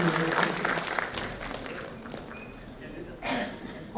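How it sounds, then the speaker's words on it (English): An audience claps for outstanding learners at a university foundation day ceremony, a steady broad patter of applause with some talk mixed in. Toward the end a fresh burst of clapping swells up. "Please join me in applauding this outstanding learners who have brought honor to themselves and to our university"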